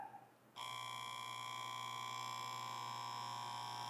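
A Comgrow air assist pump for an XTool D1 laser starts up on its variable speed controller and settles into a steady, even electric hum with a faint buzz, running alone and unchanging after a brief quiet start.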